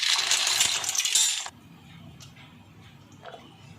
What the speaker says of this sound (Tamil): சுடுதண்ணி கொதிச்சிருச்சுங்க இப்போ பாஸ்தாவை சேர்த்துக்கங்க